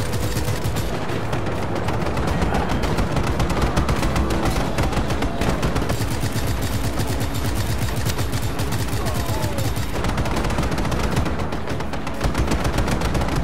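Relentless machine-gun and weapon fire from Just Cause 3 rattles on continuously for over thirteen seconds, dense and loud, with no pauses or speech.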